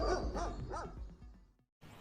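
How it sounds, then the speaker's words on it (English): Dogs barking in a short burst of several quick, close woofs and yips, ending in a brief pause before fainter sound resumes. "dogs,"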